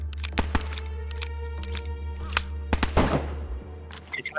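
Gunfire in the video game DayZ, with several sharp separate shots and a short cluster of rapid bursts over a low steady hum, moderately loud and without talk.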